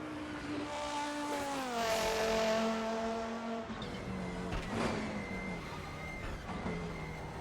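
Audi Quattro GTO race car lapping the Nordschleife, its engine loud and near, revving up and down through the gears with sweeping pitch changes and a sharp shift around the middle, no talking over it.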